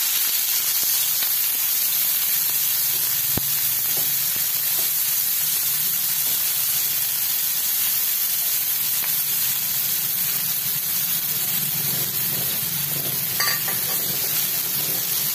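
Chopped onion sizzles steadily in a pan with cumin seeds and cinnamon pieces as it browns, a dense, continuous frying hiss held close and loud for the whole stretch, with faint stirring clinks and no talking.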